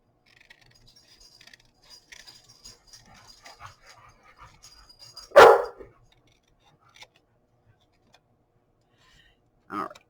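A dog barks indoors in short bursts: one loud, close bark in the middle and a second one near the end, with quiet rustling in the room between them.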